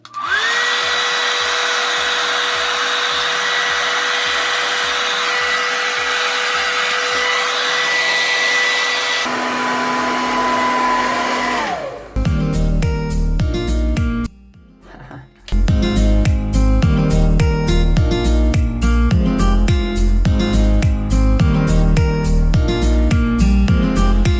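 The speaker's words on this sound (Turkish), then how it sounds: "Şimdi bu fön makinesini kaldırabilirim." A hair dryer blows steadily at close range for several seconds before it cuts out; after that, rhythmic music takes over.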